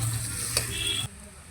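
Sliced chili, chopped garlic and onion frying in a pan, a close steady hiss and sizzle with a faint stirring scrape that drops off abruptly near the end, leaving quiet.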